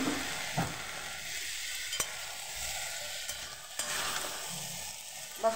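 Mixed vegetables fry in a pan while being stirred for a fish-head and Malabar spinach curry: a steady, moderate sizzle broken by occasional scrapes and soft clinks of the spoon, with no talk.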